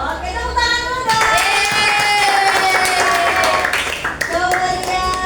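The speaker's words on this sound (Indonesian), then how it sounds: "Oke, tepuk tangan dulu dong." A class of students claps for a presentation in a classroom, steady clapping lasting several seconds, mixed with loud overlapping children's cheering and shouting voices throughout.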